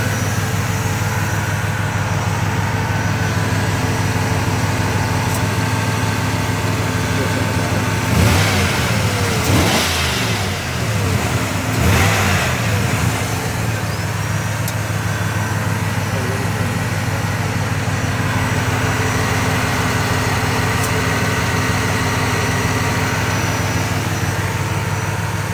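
Engine of a 1996 Cadillac Fleetwood Superior hearse idling at a steady low hum, with a couple of brief revs in the middle before settling back to idle; nobody talks.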